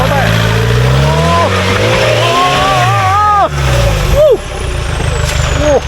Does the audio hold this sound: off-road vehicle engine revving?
yes